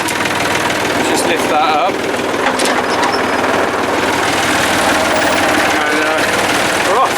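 A Massey Ferguson 135 tractor engine runs loud and close at a steady rough idle with a knocking throb, while a person speaks briefly over it.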